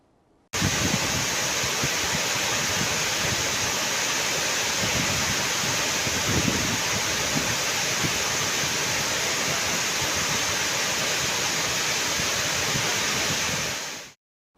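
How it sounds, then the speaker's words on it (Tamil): Floodwater from a flash flood roars past a temple beside the footpath to Panchalinga waterfall, a loud, steady rushing wash that holds unbroken for about fourteen seconds and then cuts off abruptly. "பஞ்சலிங்க அருவிக்கு செல்லும் நடைபாதையை தொட்டவாறு காட்டாற்று வெள்ளம் ஆர்ப்பரித்து செல்கிறது"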